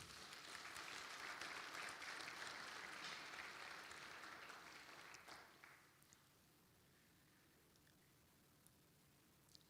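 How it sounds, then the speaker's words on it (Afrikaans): Applause from a church congregation during a sermon, a dense, steady wash of many hands clapping for about five seconds before tapering off into quiet room tone. "Kom ons gee vir hulle 'n hande klap."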